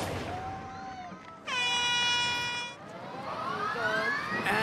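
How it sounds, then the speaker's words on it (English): A Rolls-Royce aeroplane engine powering a spinning obstacle on a game-show course gives a loud, high-pitched harmonic whine that holds steady, then climbs in pitch. "That high-pitched whine you can hear isn't the contestants. It's the Rolls-Royce aeroplane engine that powers the Dizzy Dummy."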